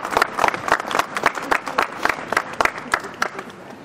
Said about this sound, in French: Merci, merci, on vous applaudit encore.